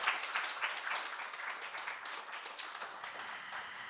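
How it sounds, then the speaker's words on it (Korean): An audience at a Democratic Party candidates' joint speech event in North Jeonbuk gives steady, even applause, moderately distant and sustained without pause, with a faint voice or two mixed in. "모두 고생하신 후보자들에게 격려와 응원의 박수 한번 부탁드리겠습니다."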